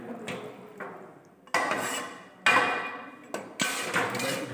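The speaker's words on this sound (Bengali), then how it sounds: "ঢাকাটা দিয়ে দিন।" A lid clanks down onto a pot of thin mutton broth simmering on low heat, with several sharp metallic knocks and scrapes between quieter stretches of kitchen noise.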